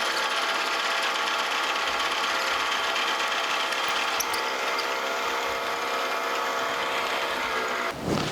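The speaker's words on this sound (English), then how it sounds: "I come in here with a 27/64 drill." A 27/64 drill bores into a metal flat belt pulley on a machine, a steady high whine with grinding bite held for several seconds, close and loud, ending with a brief change as the cut finishes.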